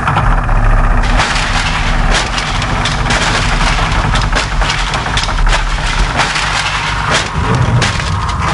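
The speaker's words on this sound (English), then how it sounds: "He saw that the wooden bridge had collapsed." Loud, sustained crashing and splintering of wood as a wooden bridge collapses, with dense cracking bursts running throughout.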